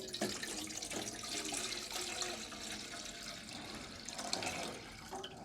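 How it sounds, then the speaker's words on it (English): A liter of water poured into a GSI 3-liter saucepan at a camp stove setup, a steady close splashing and gurgling stream running throughout without pause. "I'm going to pour the water in."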